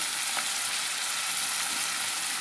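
Onions and cucumber pieces frying in a pan for an egg and cucumber curry, a loud, continuous, even sizzle with no talking.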